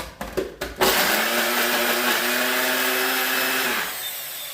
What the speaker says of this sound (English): I'm going to put them in our NutriBullet.